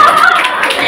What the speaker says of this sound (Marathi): सासू सासरे बनतायत, जोरदार टाळ्या.